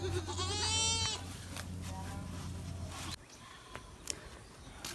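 A goat bleats loudly and close by in one long, quavering cry, followed by fainter rustling and a few soft clicks.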